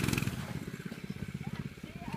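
A small engine on an old two-seater vehicle revs in a burnout, a close, low, rapid throbbing putter with a steady pulsing rhythm, brief and moderately loud.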